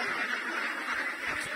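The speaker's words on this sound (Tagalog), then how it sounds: "Yung mga itik natin." Ducks on a farm quacking in a steady, close chorus, a continuous low chatter of calls over a constant background hiss.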